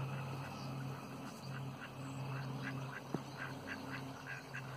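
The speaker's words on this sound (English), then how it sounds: "Say goodbye to the ducks." Ducks on the Nairn River in Scotland in winter, with soft quacks repeating faintly through steady outdoor background noise and a single sharp knock partway through.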